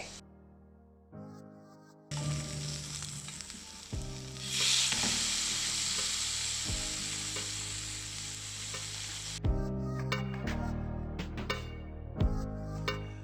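Two chicken breasts fry in oil in a pan, a steady crackling sizzle running beneath loud background music throughout.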